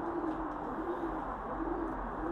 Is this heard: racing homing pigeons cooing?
yes